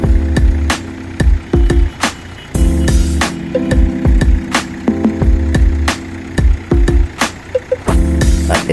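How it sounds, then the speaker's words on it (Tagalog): A Hyundai Starex van's engine runs noisily with a rough, uneven drone, interrupted by repeated sharp clicks and knocks and brief dropouts, heard close and loud without talk. "Yung engine niya talaga medyo parang maingay."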